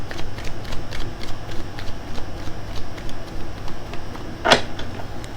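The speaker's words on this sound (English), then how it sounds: "Last shuffle for anything that wants to come through for Virgo." Tarot cards being shuffled by hand in a quiet room, a steady run of soft riffling clicks and shuffling taps with one sharper snap near the end.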